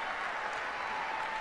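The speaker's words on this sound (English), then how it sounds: "who's the weirdos that are clapping?" An audience claps for someone speaking on a stage, a steady, dense patter of many hands holding at an even level throughout, with no voices over it.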